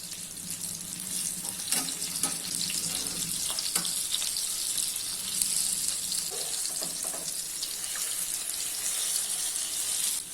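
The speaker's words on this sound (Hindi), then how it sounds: "लो फ्लेम पे इसको 4 से 5 मिनट तक फ्राई कर लेते हैं" Fish fry in oil in a pan over a low flame, a continuous bright hiss and crackle of sizzling with a few faint clinks and taps, and no one speaking.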